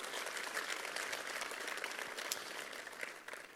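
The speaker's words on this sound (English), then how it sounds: "a big round of applause for our team of Devoxx" A Devoxx conference audience applauds steadily in a large hall, a dense wash of claps held at an even level throughout, trailing off slightly at the end.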